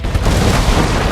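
Dense, continuous booming bursts of heavy ship cannon fire in the game Anno 1800, loud and close, overlapping into a rumbling barrage with no clear gaps.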